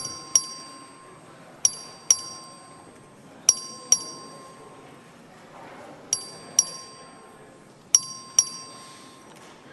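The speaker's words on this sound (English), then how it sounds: "The clerk will ring the bell." A legislative chamber's voting bell dings in quick pairs, repeated about five times with short gaps, bright and ringing over a faint room murmur.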